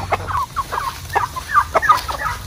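Bresse-cross chickens cluck and chatter close by on a farm, a quick string of short, overlapping clucks over steady background noise.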